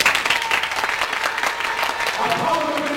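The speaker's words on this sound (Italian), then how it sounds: "Allora, un applauso." An audience at a magic show applauds in a lively, sustained burst of many hands, with voices calling out over the clapping toward the end.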